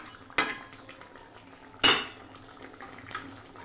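A metal spoon stirring Bengali egg curry with omelette pieces and garam masala in a cooking pot, giving two sharp, close clanks against the rim, with a few softer scrapes and light bubbling between them.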